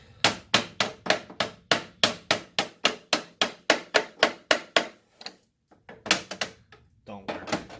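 A hammer taps a stuck aluminum gear selector on a discarded snowblower, about sixteen quick, evenly spaced metallic knocks, then a short pause and a few more irregular taps, fairly close.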